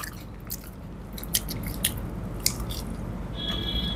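Chewing and biting while eating special fried rice, chilli chicken and fish fry at a Bengali meal, heard close up as soft, wet, squishy mouth sounds with a few sharper bites, no talking.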